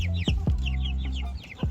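Chickens from a backyard flock of about forty cluck up close in a series of short, separate calls spaced across the moment, with quiet rustling between them.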